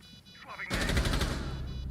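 Gunfire from a competitive team shooter video game match, a sudden loud burst of rapid shots kicking in after a quieter lead-in and continuing densely to the end.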